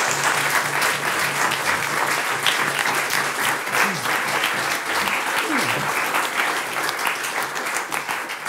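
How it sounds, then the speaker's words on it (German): Large audience applauds a team at a live comedy show, steady dense clapping sustained throughout with some cheering mixed in. "Ein großer Applaus für das Team Heun und Söhne,"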